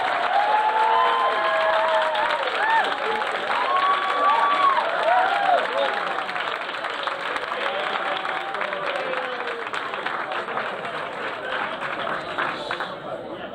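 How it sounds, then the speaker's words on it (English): A tag rugby awards crowd at the British & Irish Cup cheers and applauds the Great Britain Women's Open team, with sustained clapping, whoops and shouts that gradually taper off. "So a huge cheer, please, for the Great Britain Women's Open team."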